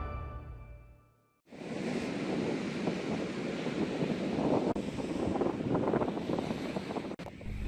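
High waves and strong west wind at Kelan beach in Badung, Bali, make a heavy, continuous roar of surf mixed with buffeting wind on the microphone after a brief quieter opening, with no voices.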